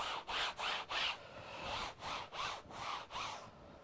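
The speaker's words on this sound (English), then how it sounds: "I'm just going to rub this in slightly." Paint being rubbed into a painting's surface with a brush or cloth, heard as a series of about ten rhythmic scrubbing strokes, close and fairly quiet, in bursts with brief pauses and no talking.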